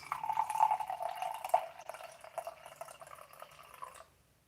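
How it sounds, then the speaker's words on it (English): A cold drink is poured from a can or bottle into a glass, a close, gurgling, filling trickle that runs for about four seconds and then stops. "Now I'm gonna pour this into a glass."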